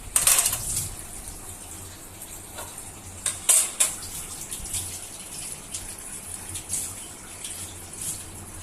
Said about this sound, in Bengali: বাবা দুইজন বসে বসে থালাবাটি মাজছে